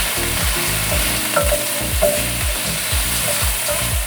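Garlic string beans are tossed with soy sauce in a hot pan, with a steady loud sizzle under a rhythmic series of stirring scrapes and clinks, close up and without speech.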